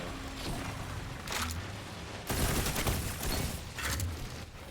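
A burst-fire weapon in a video game fires in short clustered bursts of sharp, loud shots amid continuous game noise, with several distinct bursts spread across the few seconds.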